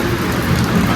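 Steady rain pours down outside, a dense continuous hiss of drops on surfaces, loud and close with no voices.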